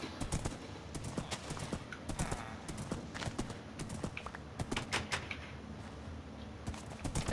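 Hooves clip-clop in a quick, uneven patter as a horse moves through a Minecraft world, a close, moderately loud run of hollow knocks with no voices over it.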